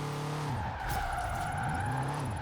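A BMW drifts in Forza Horizon 4, its engine droning under a sustained, loud squeal of skidding tires that wavers in pitch through the slide, with no talking.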